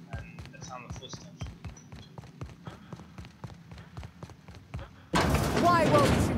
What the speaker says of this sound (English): And the sound of footsteps.